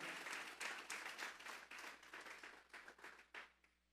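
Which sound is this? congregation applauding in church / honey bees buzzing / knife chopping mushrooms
congregation applauding in church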